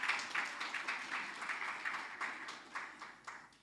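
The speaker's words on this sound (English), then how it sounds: "Let's give Prof. Pretorius another round of applause." An audience at a gala dinner applauding, a steady wash of many hands clapping in a large room, moderately distant, holding for several seconds before starting to thin out.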